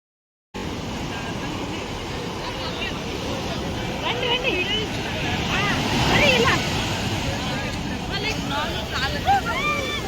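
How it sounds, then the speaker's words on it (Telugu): Ocean surf at RK Beach at night rolls in a continuous rushing wash, swelling louder midway, with wind noise and bright voices and chatter of a crowd mixed in. "మీకు కూడా అలల సౌండ్ అయితే వినిపిస్తుంది ఎంత రిలాక్సింగ్ ఉంటుందో"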